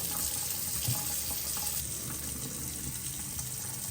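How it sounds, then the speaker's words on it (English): Steady rush of cold water pouring from a tap into a sink, constant and close, with nothing else over it. "Turn the cold water and let it run for a little bit."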